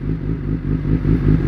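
A Kawasaki ZX10-R motorcycle engine idles close by, a steady low rumble with a slightly uneven, pulsing beat.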